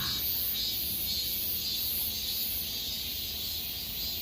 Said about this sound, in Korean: 매미 소리가 요란합니다.